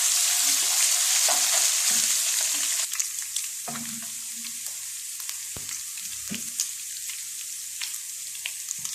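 Garlic and ginger fry in hot oil in a pan, loud steady sizzling that eases after a few seconds into softer crackle, punctuated by close scraping and tapping of a stirring spoon.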